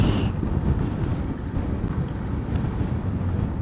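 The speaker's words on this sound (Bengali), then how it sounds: "বাপরে বাপ, প্রচুর বাতাস," Strong wind blowing outdoors by a bus terminal fuel pump, buffeting the microphone with a steady, heavy low roar that surges slightly throughout.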